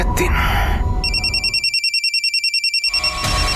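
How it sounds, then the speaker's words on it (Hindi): A short burst of voice and noise, then a phone's ringback tone pulsing in a steady repeating pattern for about two seconds, loud and close. "रुक मैं फोन लगा के देखता हूँ।"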